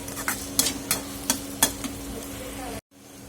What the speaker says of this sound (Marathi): आपण हे लसूण आणि मिरचीचं वाटण ह्यामध्ये घालणार आहोत आणि तेही छान असं परतून घेणार आहोत